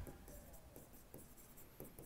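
A note written by hand during a class on Indian polity: faint, soft scratching strokes in short repeated bursts, close and quiet, with no voices.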